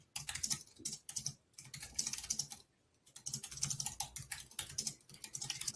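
Steady, close typing on a computer keyboard in a show-prep setting, quick bursts of keystrokes separated by short pauses, with no talk over it.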